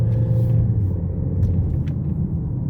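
A Ford Escape with a transmission that loses engagement in overdrive, driving at steady throttle: a continuous low engine hum and road rumble inside the cabin, even and unbroken.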